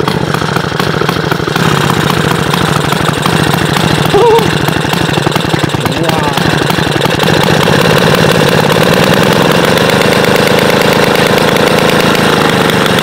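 A vintage Motobécane motorcycle engine idles loudly and steadily throughout, its running clatter dense and continuous from start to finish.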